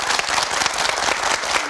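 A studio audience on a Korean TV morning talk show applauds, giving a thick, continuous wash of many hands clapping at once, loud and even throughout.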